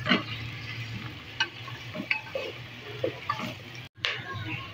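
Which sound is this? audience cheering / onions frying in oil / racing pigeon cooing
onions frying in oil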